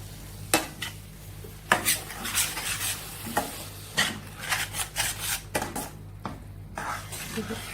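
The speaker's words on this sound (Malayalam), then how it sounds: "ഇത് നന്നായി വഴറ്റി നല്ല വെള്ളമെല്ലാം വറ്റി പരണ്ടിരിക്കുന്ന പരുവത്തിലാക്കി എടുക്കാം നമുക്ക്" Tomato paste for vegetable korma sautés in a pan, a close sizzle broken by repeated scraping and clinking stirs of a spoon against the metal.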